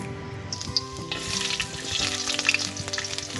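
Food sizzles steadily in a hot pan as onion, garlic and ginger are sautéed for a sweet-and-sour lipti fish escabeche, with intermittent clinks and scrapes of stirring, close and alone without talk.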